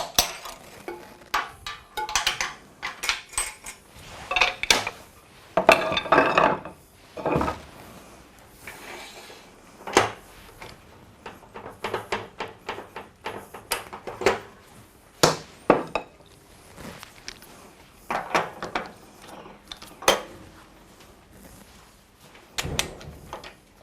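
On a wood lathe, the drive center comes out and a chuck goes on: close, irregular metallic clunks, knocks and scrapes, separated by short quiet gaps, with no talking.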